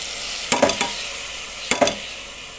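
Vegetables tipped with their water into a hot frying pan for vegetable noodles with tomato and egg, giving two short bursts of sizzling and stirring clatter against a quiet steady kitchen background.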